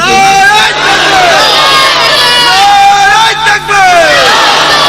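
A large crowd at a Bengali religious sermon gathering roars a loud chant of takbir in unison, with voices rising and falling in sustained, overlapping waves of shouting and a brief dip near the end.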